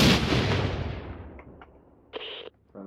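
A 40mm grenade launcher fires in the military shooter Six Days in Fallujah, a loud booming blast with a long rumbling decay, followed by a couple of faint clicks and short metallic handling sounds.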